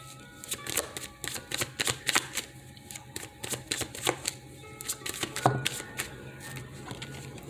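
Tarot cards being shuffled by hand in rapid riffling bursts, crisp and close, repeating in quick uneven clusters with a slightly louder snap near the end and no talk.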